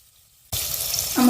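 Paneer rubbed with salt and turmeric hits hot oil in a kadai and bursts into a loud, steady sizzle after a quiet moment, with a low hum rising near the end.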